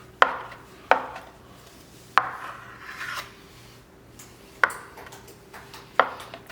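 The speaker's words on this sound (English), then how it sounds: "you want to cube up your cheese so that it melts a whole lot easier." A knife cubes a big block of cheese for slow-cooker queso, landing about five crisp, separate chops on a board with short ringing tails and quiet gaps between cuts.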